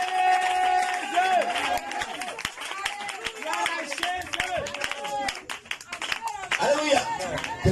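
A church congregation claps in rhythm and cheers in praise, a dense crowd sound mixed with voices and shouts that carries steadily throughout.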